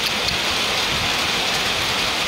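Steady, dense rain pours down close by, a continuous loud hiss of drops with no pauses and no voices.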